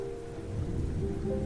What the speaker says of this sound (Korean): 비만 내리고 있었다.